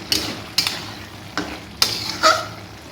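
A spoon scrapes and stirs eggplant pieces with spice powder in a hot frying pan, five distinct scraping strokes with a soft sizzle between them, close and clear with no talking.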